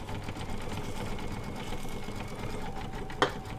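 A home embroidery machine stitches out a Christmas appliqué design, its steady rapid needle chatter running continuously at close range with a brief sharp click near the end and no voices.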